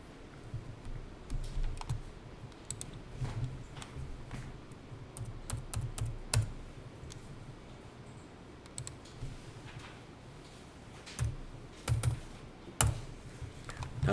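Computer keyboard typing and mouse clicks during data entry in accounting software: soft, close keystrokes in irregular bursts, with a few sharper clicks scattered across the stretch and no talking.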